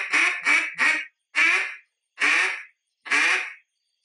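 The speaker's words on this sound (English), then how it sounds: "learning the duck call" A duck call quacking in a quick run of three short quacks, then three slower, longer ones, loud and close with no voices.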